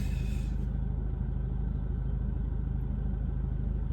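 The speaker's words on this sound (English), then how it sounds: "just waiting for a couple of cars to go by" Cars passing along a quiet, wet country road, heard as a steady low rumble of tyres and engines that holds through the whole stretch, fairly distant and even in level.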